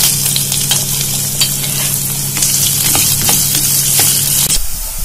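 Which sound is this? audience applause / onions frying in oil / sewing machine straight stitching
onions frying in oil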